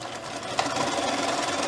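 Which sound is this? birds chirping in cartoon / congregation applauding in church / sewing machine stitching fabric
sewing machine stitching fabric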